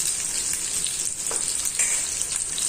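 Small shallots dropped whole into hot oil with popped fenugreek seeds sizzle steadily for a Tamil banana-flower kuzhambu, a bright continuous crackle with occasional sharper spits, close and loud with no talking.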